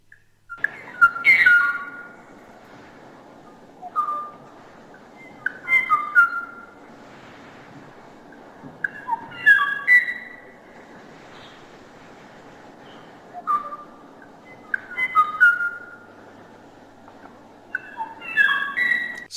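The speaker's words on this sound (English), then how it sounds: "So here we have the Hawaiian oo," Song of the extinct Hawaiian oo, an archival field recording of clear, flute-like whistled phrases repeating every few seconds over a soft, hissy background, with no voices.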